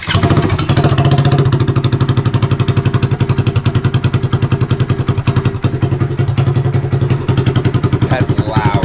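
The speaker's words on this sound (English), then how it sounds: "I wanna see how obnoxious this thing is with no muffler at all." A Grom motorcycle engine running on bare headers with no muffler, loud and close, a fast steady rapid-fire exhaust pulse throughout.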